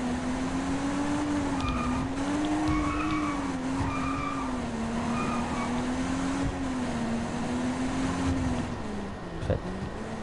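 A fast car in the video game Just Cause roars along with a steady wavering engine tone and continuous tire skidding and squeal, loud and unbroken throughout with no talk.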